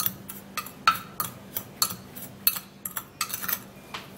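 Powdered ingredients for a homemade hair dye are mixed together in a bowl, producing a steady run of close, light clinks and taps of a utensil against the container, repeating roughly every half second.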